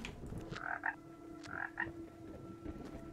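Frog croaking in the video game Ikonei Island, two pairs of short, faint croaks with a pause between them over a quiet ambient hum.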